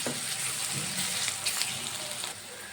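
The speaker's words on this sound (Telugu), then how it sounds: "ఆనియన్స్ బాగా ఫ్రై అయిపోయాయి కదా" Onions fry in a pan for a white beans curry, producing a steady, soft sizzle and crackle with faint bursts of hiss at moderate distance.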